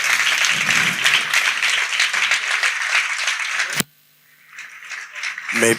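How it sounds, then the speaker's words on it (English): Loud applause from an audience at a ufology congress in Barcelona for several seconds, then a sharp click and near silence before a brief noise at the end. "I just wanted you to give a round of applause to our president, Roberto Pinotti."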